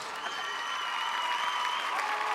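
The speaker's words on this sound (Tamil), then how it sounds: "கைத்தட்டு கொடுங்க." Studio audience applauding steadily for a dance act on a Tamil kids' singing show, a dense, even clatter of clapping hands with no voices above it.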